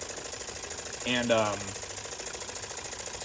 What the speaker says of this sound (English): I don't think it matters what direction you run the steam engine in, because the light still turns on.